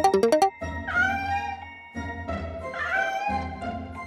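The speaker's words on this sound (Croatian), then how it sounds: "Mačka." A domestic cat gives two or three drawn-out, wavering meows, close and clear, right after a short burst of quick musical notes, with no talking.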